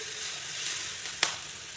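Water hits duck egg curry in a hot pan and sets off a steady, close hiss of sizzling, with a single sharp pop about midway.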